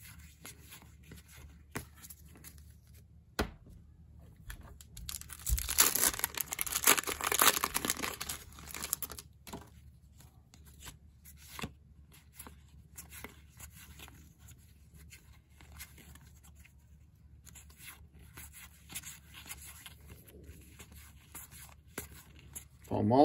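Crinkling foil wrapper of a 1993 Donruss baseball card pack being torn open, a loud burst of ripping and crumpling in the middle between quieter handling rustles, with someone talking nearby.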